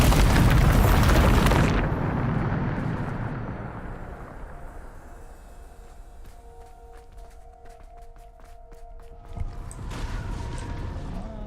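A Bombarda blast cast in Hogwarts Legacy lands as a loud, broad explosive boom that fades into a long low rumble, with faint mechanical ticks and a small thud later on.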